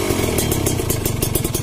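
Kawasaki Ninja RR 150 two-stroke motorcycle idling through an aftermarket hollowed-out stock exhaust in touring tune, a loud close burbling pulse with rattling clatter and rhythmic popping, steady and unaccompanied by talk.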